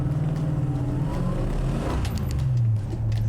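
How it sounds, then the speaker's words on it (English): A stroked Ford Cleveland 351 V8 built out to 393 cubic inches revs with a deep, throaty roar, rising and swelling in loudness toward the end of a few continuous seconds, with no talk over it. "I put a Cleveland 351 in it. We stroked that out to a 393 and just gives that beautiful, beautiful big throaty noise."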